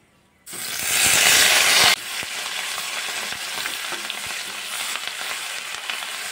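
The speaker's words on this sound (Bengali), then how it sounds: "পেঁয়াজ বাটাটা দিয়ে আমি একটু নাড়াচাড়া করে হালকা একটু ভেজে নেব।" Onion paste hits hot oil in a pan with a sudden loud hissing burst after a moment of quiet, then settles into a steady sizzle as it is stirred with occasional utensil knocks.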